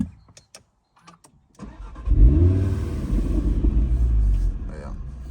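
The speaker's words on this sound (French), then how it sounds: "Regardez quand tu allumes la voiture" An Audi RS3 of nearly 500 hp is started up, a few faint clicks first, then the engine catches with a loud, close rumbling flare and settles into a deep, throbbing idle.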